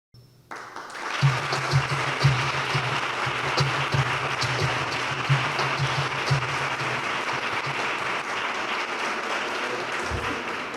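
Sustained audience applause during a Pride Day conference, greeting dancer Vanessa Orrán with dense, steady clapping that holds at an even loudness for about ten seconds, with a low hum beneath and no talking.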